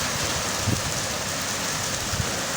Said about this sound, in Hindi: और बहुत ही तेज़ बारिश लगी है दोस्तों।